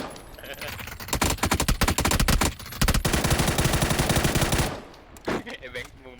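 Video game gunfire in a rapid, loud automatic burst lasting several seconds, followed by a few scattered shots and game sounds as the firing stops.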